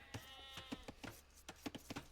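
A sheep in Age of Empires II bleats in quick, repeated short calls over a faint steady game background.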